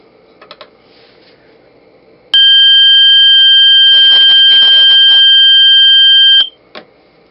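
A loud, steady electronic buzzer tone from a thermometer temperature alarm sounds for about four seconds, with faint clicks and rustling before and during, then cuts off abruptly.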